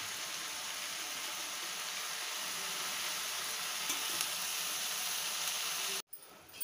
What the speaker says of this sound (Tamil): இப்போ நம்ம எடுத்து வச்சிருக்க புதினா கருவேப்பிலை கொத்தமல்லி இதோட சேர்த்து நல்லா வதக்கிரலாம்